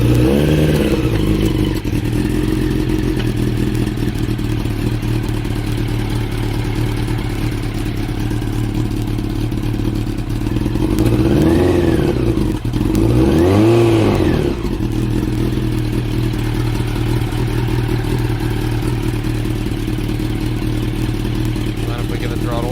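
A Honda CBR1000 Hurricane motorcycle with rebuilt carburetors runs continuously and loudly, its engine rising and falling twice as the throttle is blipped, with some clatter and talk over it.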